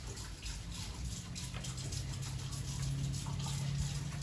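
Faint, steady gush of tap water running over a spatula being rinsed in a kitchen sink, rising slightly toward the end.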